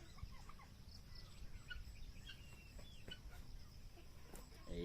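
Guinea fowl call out in a rural yard, with faint, distant chattering cries scattered over a steady low background rumble, no voices heard.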